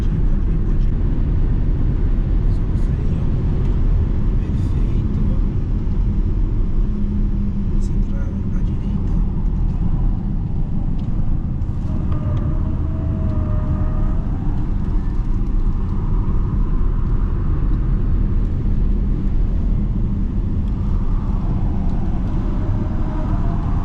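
A 646-horsepower all-wheel-drive Zeekr 7X accelerates hard to 100 km/h on a track, its steady rushing roar and road noise running beneath people talking.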